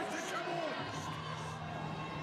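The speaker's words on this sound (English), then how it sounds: "You can hear his brother Luke in the back cheering him on" Crowd noise and cheering in the background at a powerlifting meet as a lifter pulls a 397 kg deadlift, a steady mix of distant voices shouting encouragement throughout.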